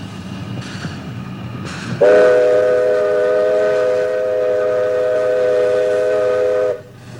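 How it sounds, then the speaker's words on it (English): A steam locomotive on the Pichi Richi Railway, hauling a train up the 1 in 60 grade from Quorn toward Woolshed Flat, sounds a long, loud, steady whistle blast over a low, continuous rumble of the moving train. "soot, steam and cinders were once again providing the gritty glamour of old-style locomotion"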